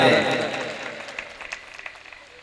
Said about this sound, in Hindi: एक बार पूरा मजमा दोनों हाथों को फजा में लहराकर ताली बजा